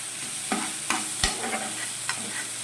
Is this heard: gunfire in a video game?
no